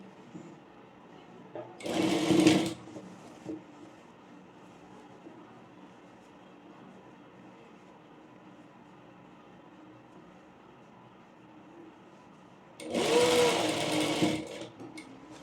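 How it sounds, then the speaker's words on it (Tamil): A sewing machine stitches a V shape on a layer frill frock in two short, loud bursts of rapid whirring, separated by a long stretch of quiet room noise. "சேம் அதே வி ஷேப் ஸ்டிச் பண்ணி எடுத்துக்கலாம் ஒரு 1/2 இன்ச் தள்ளி."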